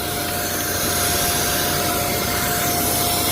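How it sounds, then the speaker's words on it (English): A shop vacuum runs steadily and loudly up close, sucking seed out of a planter meter, with a constant whine throughout. "So we're gonna try the shop vac approach"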